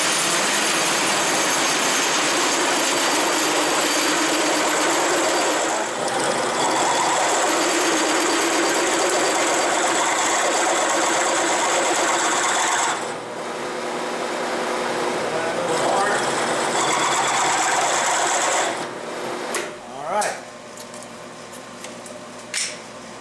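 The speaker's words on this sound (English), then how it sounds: "Alright, I'm ready to countersink." An 11/16 drill countersinking screw holes in a South Bend 13 lathe backplate gives a steady high whine with grinding texture that drops out partway, followed by a few sharp knocks and rattles at the end.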